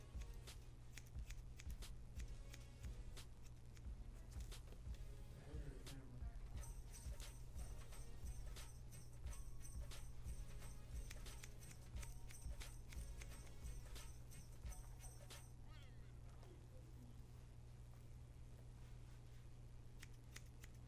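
Scissors snip and notch hair during a salon haircut, a run of rapid close crisp clicks over a low steady hum, with quiet talking in the background.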